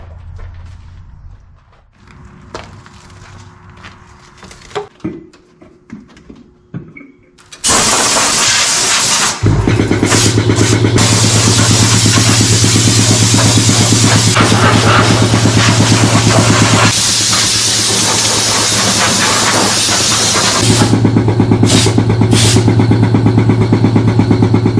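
A 1987 Chevy small-block 350 TBI engine that has sat for twenty years cranks, catches and settles into a loud, steady idle that runs on unbroken and close, after a quiet stretch of faint shuffling.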